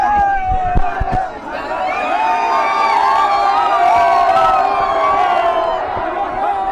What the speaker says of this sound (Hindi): भीड़ में जो है अभी स्टैम्पिंग वाली हालत हो जाएगी